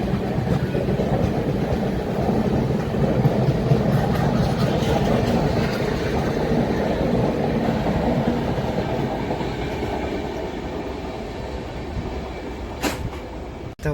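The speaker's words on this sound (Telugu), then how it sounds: "ఇటుపక్క రాయలసీమ ఎక్స్ప్రెస్ అయితే ఫుల్ స్పీడ్లో డిపార్చర్ అయితే అందించుకున్నాడు మనకి అదోని రైల్వే స్టేషన్ నుంచి" The Rayalaseema Express pulls out of Adoni railway station at full speed, a loud sustained rumble and rhythmic wheel clatter close by that eases slightly toward the end, with a sharp clank just before it stops.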